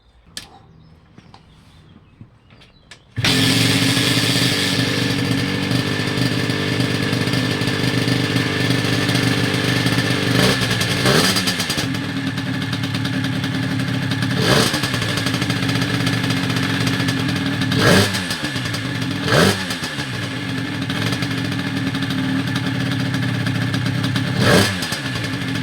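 AM6 dirt bike engine fires up after a quiet moment and runs loud and close, its steady buzzing idle broken by several sharp throttle blips and revs.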